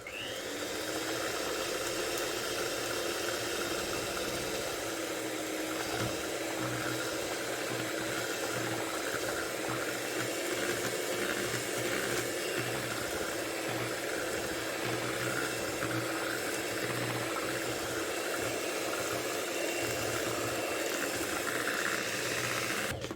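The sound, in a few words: electric hand mixer blending orange cake batter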